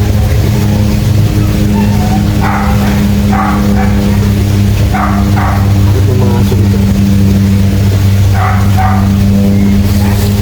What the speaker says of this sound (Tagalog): Bakit may mga aso?